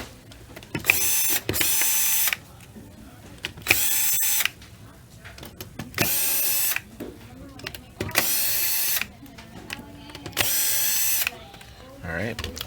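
A powered screwdriver backs five screws out of a LabQuest 2 handheld case, giving repeated short whirring bursts of about a second each with brief quiet gaps between them, close up and moderately loud.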